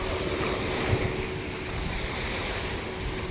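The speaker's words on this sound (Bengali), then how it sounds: "সাগর সৈকতের ঢেউগুলিও যেন প্রতিনিয়ত স্বাগত জানিয়ে চলেছে যে কোনো পর্যটককে।" Sea waves roll onto a beach on Havelock Island, a steady low surf rumble mixed with wind buffeting the microphone, no one speaking.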